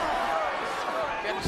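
A wrestler is slammed off the top turnbuckle during a 2003 tag-team wrestling match, the impact buried in loud, continuous arena crowd roar with no distinct separate thud standing out.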